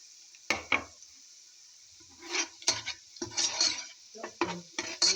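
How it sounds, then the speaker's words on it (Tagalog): Onions and garlic sauté in a pan with a crackling sizzle, broken up by irregular stirring scrapes and clinks of a utensil against the pan, close and moderately loud, with no voices. "So we have to saute now onions. Now we'll put now also this garlics."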